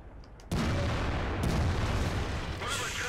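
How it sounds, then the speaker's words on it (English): Incoming artillery fire in the tank battle game World of Tanks hits as a sudden heavy boom, followed by a sustained loud rumbling roar with a second thump partway through and no voices over it. "Looks like some artillery is coming in to us as well."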